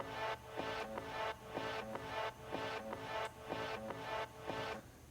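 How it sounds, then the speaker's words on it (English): A looping bass line sits quietly in a dance-music mix, pulsing in a repeating pattern alongside soft percussive hits, faint and steady throughout. "There's a looping bass line that sounds a bit like this."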